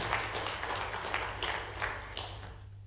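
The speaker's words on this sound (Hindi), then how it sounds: "उनका ताली बजा करके स्मरण करें" Audience applause at a business gathering in Jaipur, with investors and industrialists meeting a chief minister; a crowd claps steadily in bursts for about three seconds, moderately loud, then tapers off, with no voices heard.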